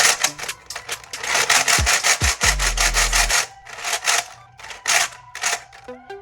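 A giant Rubik's cube being turned, loud, rhythmic scraping and clacking plastic rasps in quick repeated bursts, close by, with a few low thumps partway through.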